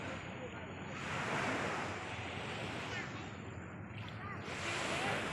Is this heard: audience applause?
no